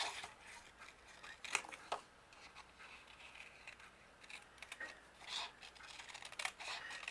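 Scissors snip out a lace holder spool shape, probably cutting card, with soft irregular crisp cuts and rustles at close range, faint and intermittent, with no talking.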